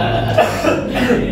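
A person who is feeling unwell coughs in a rough, close burst of a few hacks during an indoor conversation among bikers, loud against a low murmur of the room.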